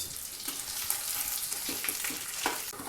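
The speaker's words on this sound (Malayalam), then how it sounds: "ആദ്യമായിട്ട് നമുക്ക് ആ തേങ്ങ അരിഞ്ഞ് വെച്ചത് നമുക്കൊന്ന് ഫ്രൈ ചെയ്തെടുക്കാം" Chopped coconut fries in hot ghee with a steady, close sizzle and crackle, and a few brief stirring scrapes and pops break through. No one speaks.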